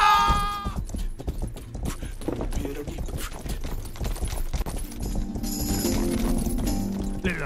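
Horse hooves clip-clop at a steady trot in the medieval video game Rustler, mixed with music and scattered game effects, fairly close and loud throughout.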